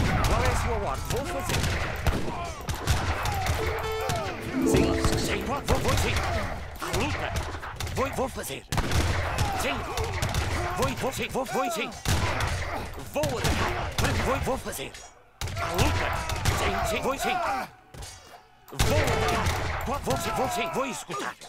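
Musket volleys crackle repeatedly through a battle in the real-time strategy game Age of Empires III, dense overlapping shots mixed with game effects and music while players talk over it throughout.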